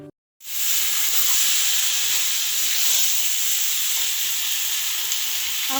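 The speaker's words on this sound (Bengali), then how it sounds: "শুকনো লঙ্কা সব পেস্ট করে রেখেছিলাম মিক্সিতে সেগুলো দিয়ে একটু ভালো করে কষতে থাকবো যতক্ষণ না তেল বেরাতে থাকে" Dried red chili paste frying in hot oil in a Bengali home kitchen: a loud, steady sizzle that starts abruptly after a brief silence and keeps hissing evenly, close up, with no talking.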